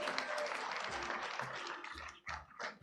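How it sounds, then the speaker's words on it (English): Audience applause for a team at a climate justice conference, a steady wash of clapping from a crowd that thins and swells toward the end, fairly faint and distant. "Much a clap for Riara, please."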